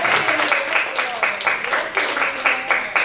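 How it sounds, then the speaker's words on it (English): Congregation applause in a Long Beach church, scattered hand clapping rising and falling beneath a speaking voice, moderately loud and close. "Give the Lord a round of applause."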